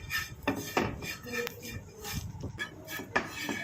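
Powder dry-frying in a pan while a utensil stirs it, giving repeated close scraping and clinking of metal against the pan in an uneven rhythm.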